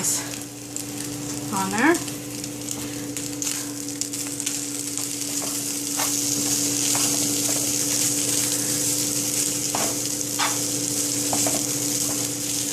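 Caramelized vegetables sizzle and frying steadily in a hot pan while being stirred, a constant loud crackle with occasional scraping, and a person briefly speaks over it.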